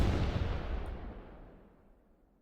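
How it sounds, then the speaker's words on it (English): A heavy video-game explosion in a horror game, a loud broadband boom that opens at full force and then rolls off in a long decaying echo over about two seconds, with no voices. "The explosion was so strong that its echo could be heard in Julio's reality."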